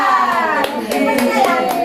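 A group in a training session does a rhythmic clapping chant, sharp hand claps landing in a quick pattern over voices chanting along, loud and close.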